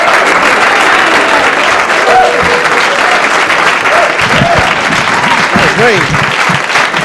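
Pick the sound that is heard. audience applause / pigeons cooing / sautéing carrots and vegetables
audience applause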